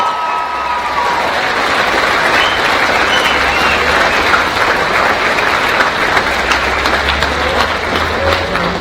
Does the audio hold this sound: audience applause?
yes